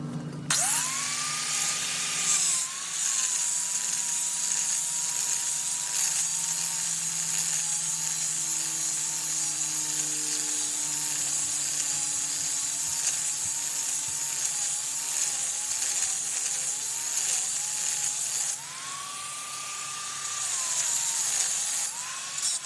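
An electric drill bores through the metal housing of a lawnmower deck, a steady high whine running close and loud for about twenty seconds with slight pitch wavers and a brief pause near the end.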